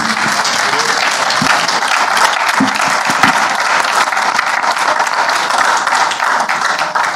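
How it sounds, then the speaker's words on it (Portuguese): A church congregation at a missions service bursts into loud, sustained applause for Jesus, dense clapping filling the room with a few scattered voices. "Um aplauso ao Senhor Jesus"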